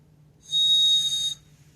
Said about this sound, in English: I have a little birdie here, a whistle